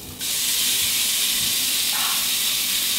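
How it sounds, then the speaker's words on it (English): Small-cut bacon pieces crisp in a hot iron skillet with a loud, steady broadband sizzle that jumps up as the meat hits the pan, then holds an even hiss close by. "I'm just going to crisp it in my iron skillet"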